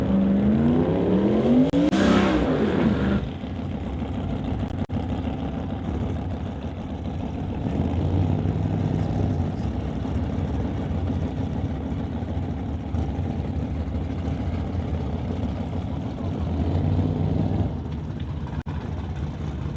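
Vanessa Richards' Hawaii 5.0 Mustang, an Outlaw Street drag race car, idling and rolling toward the lanes at a drag strip: a loud, steady, rumbling engine with a brief rev early on, then a continuous low throb.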